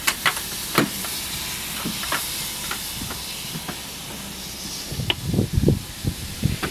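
Steam train departing Chinnor Station on a heritage railway, with steady steam hiss and scattered chuffs, growing louder with heavier bursts toward the end.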